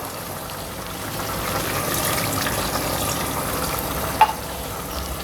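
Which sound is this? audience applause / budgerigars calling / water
water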